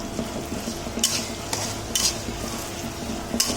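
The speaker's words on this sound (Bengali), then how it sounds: "কড়াইতে আমি তেলটা দিয়ে দিয়েছি এখন পেঁয়াজ আর মরিচটা যে কেটে রেখেছি দিয়ে দিচ্ছি" Onion and chili fry in oil in a wok (kadai) for potato bhaji, a steady close sizzle broken by a few sharp, bright bursts as the pieces are stirred, with no voices.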